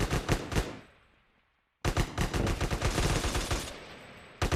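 Gunfire from a shootout during a jewelry store raid in GTA roleplay: rapid, loud bursts of shots, then a brief silence and a longer, sustained volley close by, with no speech.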